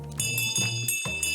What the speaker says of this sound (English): so that's a bell sound.